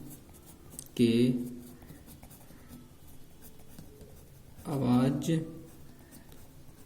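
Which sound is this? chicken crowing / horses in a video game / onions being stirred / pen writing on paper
pen writing on paper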